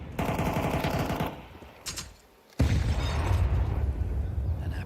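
Rapid gunfire bursts in a Counter-Strike match at the StarLadder Budapest Major, loud automatic fire and pops, a short lull, then heavy sustained shooting resuming with a booming onset.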